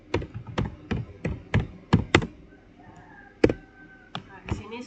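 Keys on a computer keyboard are struck in a quick run of crisp, close taps, then a pause and a few more isolated keystrokes, with faint background sound.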